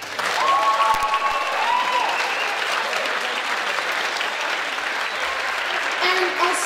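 An audience at a pop performance event applauds all the participants, a dense, sustained clapping that stays steady and fairly loud throughout.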